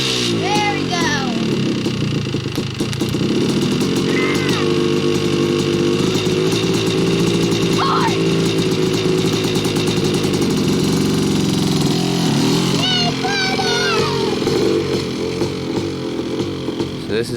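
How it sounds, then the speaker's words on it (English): A Sick 250R quad (ATV) engine runs loud and steady throughout, its buzzing drone rising and falling with throttle, with voices talking over it. "if you can start the quad, you can ride the quad"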